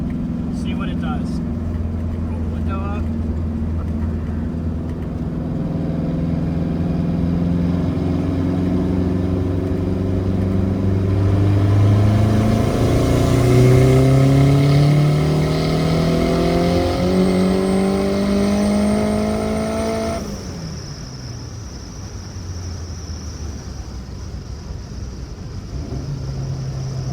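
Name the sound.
turbocharged K20 Honda Civic accelerating in fourth gear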